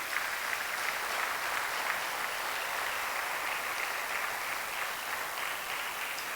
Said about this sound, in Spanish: Dar un fuerte aplauso a Cristo